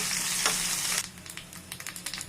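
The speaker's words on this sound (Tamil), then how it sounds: "பூண்டு போட்டு நல்லா வதக்கிக்கணும்" Garlic fries in hot oil with mustard seeds and dried chillies in a Tamil kitchen, a loud bright sizzle that suddenly drops to a quieter crackle with scattered pops and stirring.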